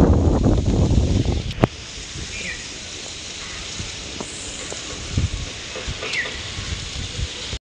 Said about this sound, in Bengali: দুপুর থেকে শুরু হয়েছে বৃষ্টি, আর তার সাথে ঝোড়ো হাওয়া।